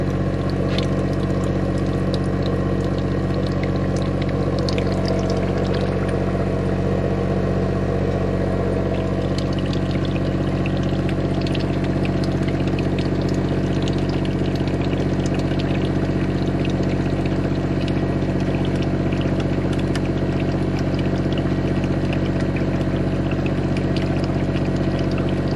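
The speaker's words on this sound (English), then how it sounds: "So now it's pumping the oil out." Pump drawing used oil out of a Caterpillar 3126 inboard boat engine through a pipe into a 5-gallon bucket, a steady loud mechanical hum with liquid pouring that runs unbroken throughout, with no talking.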